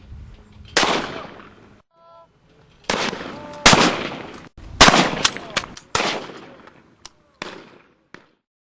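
Firearms shot at a shooting range: several sharp, loud gunshots come in an irregular series, some in quick pairs, each with a short decaying tail, separated by silent gaps.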